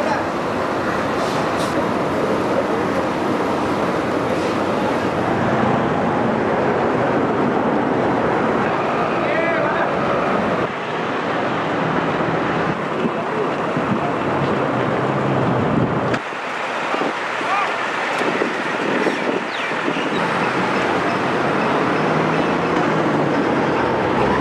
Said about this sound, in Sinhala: මානුර දුම්රිය ස්ථානයේ අද උදෑසන පායි 40ට මගින් 180ක් රැගත් දුම්රියක් මානුර දුම්රිය ස්ථානයේ සිට කොළඹ කොටුව දක්වා ධාවනය කෙරුණා